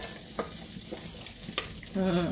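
Washed lentils going into a cooking pot over a soft background sizzle, with a few light clinks and knocks and then a louder rushing, clattering burst near the end, close but fairly quiet.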